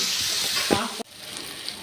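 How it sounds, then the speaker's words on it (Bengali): Panch phoron spices crackle and sizzle in hot oil for Bengali shukto, a loud, close hiss with a brief burst of spattering. The sizzle cuts off sharply midway, then resumes more softly. "তেলের ভিতরে চলে গেলে পাঁচফোড়ন।"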